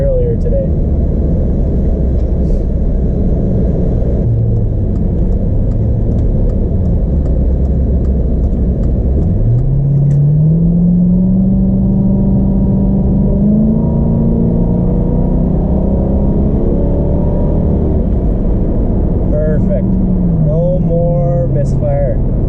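A Lincoln LS engine, running smoothly after an ignition coil change, revs up steadily to a high pitch and then settles back, loud and continuous, with someone talking over it.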